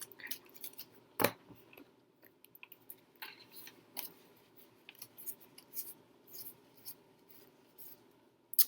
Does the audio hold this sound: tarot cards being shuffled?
yes